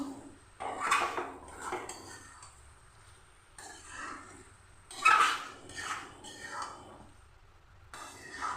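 Chicken curry being stirred in a pot, with intermittent scraping and clinking of a spoon against metal in short bursts, fairly quiet and close, with soft background noise and brief breathy sounds between strokes.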